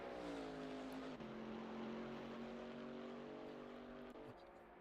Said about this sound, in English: Gotta love the V8 roar of this car. It sounds so good.